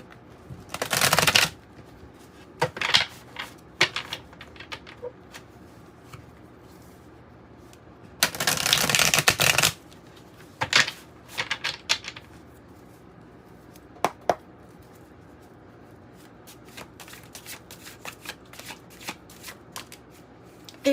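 Tarot cards being shuffled close by, with two long riffling bursts among scattered shorter flicks, taps and card slaps, and no voices over the handling.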